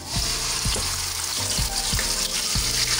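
Ground onion sizzles in hot oil in a pan while biryani is cooked, a steady broadband hiss with a few soft low thuds of stirring underneath, close and continuous.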